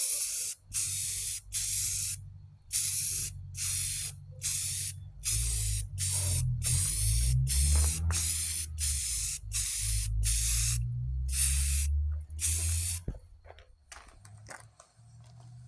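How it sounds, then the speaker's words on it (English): A spray can of Rustoleum primer coating the body of a 2000 Lincoln Town Car, a loud close hiss in about a dozen short repeated bursts, then one long continuous spray before it stops. "I'm going to go ahead and spray some primer on this."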